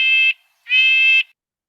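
Red-breasted nuthatch calls, two nasal, buzzy notes rich in harmonics, the second longer, close and clear against silence.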